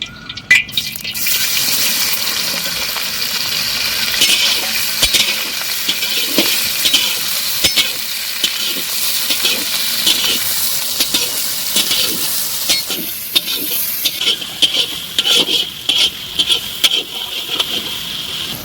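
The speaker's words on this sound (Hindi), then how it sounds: "मिक्सिंग" A chicken gizzard and heart gravy with capsicum and onion is mixed and stirred in a pan, a loud, continuous wet churning and sizzling close by that runs the whole time, with scraping bursts later on.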